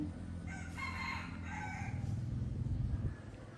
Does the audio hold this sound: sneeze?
no